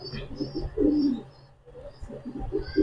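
Pigeons, including Damascene, racer and Budapest high flyer breeds kept together, coo in soft low repeated bursts up close, with a brief lull midway and faint chirps above.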